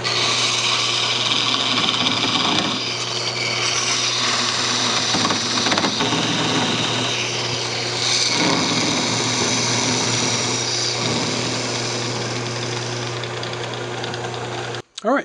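A wood lathe spins steadily while a cocobolo box is parted off, a constant motor hum with scraping tool-on-wood noise for most of the time, close and loud, before it stops abruptly at the end.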